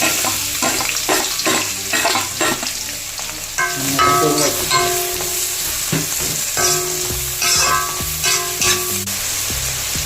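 Sliced onion, green chili, ginger and garlic fry in hot oil for a prawn roast, giving a steady close sizzle broken by repeated stirring scrapes, with no voices.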